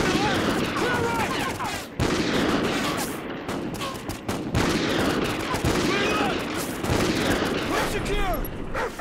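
Rapid gunfire from a remote sniper shot and a room breach in the Call of Duty Ghosts video game: dense, overlapping shots and bursts running almost continuously, loud and close, with voices talking beneath.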